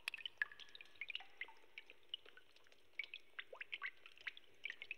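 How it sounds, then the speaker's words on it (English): Water drips in the video game Kinder, a scatter of bright, irregular plinks and drops over a quiet, faintly hollow ambience, close and clear with no talking. "No, it's just water."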